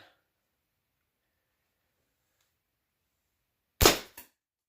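A slingshot fires a steel ball with 100% .80 bands in cold-weather conditions: one sharp, loud crack after a long silence, followed immediately by a smaller second snap.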